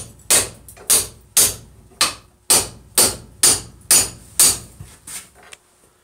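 A hammer strikes hot steel while forging a vise, about ten sharp ringing blows at an even, steady rhythm, close and loud with no talk.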